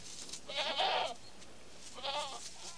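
Two bleating calls from a goat in a forest, one long and wavering, the second shorter, heard close over quiet background.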